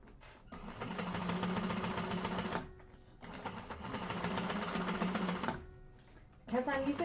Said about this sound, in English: I'm actually going to go around with the second row of stitching within the seam allowance